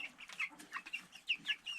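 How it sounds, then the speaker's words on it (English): Meat bird hens clucking softly in a farmyard, a steady stream of short, repeated clucks and chirps at low to moderate volume, with no talk over them. "We got a couple of our meat bird hens."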